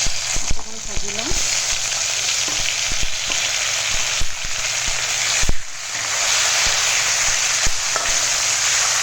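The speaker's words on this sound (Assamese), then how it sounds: "অকণমান ভাজি লওঁ" Tomatoes fry in a pan with bay leaves and green chillies, giving a constant loud sizzle broken by a few sharp clinks and stirring scrapes.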